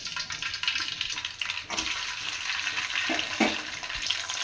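Curry leaves hit hot oil for tempering a fish sambar, giving a quiet, continuous crackling sizzle with a few sharper pops and no talking.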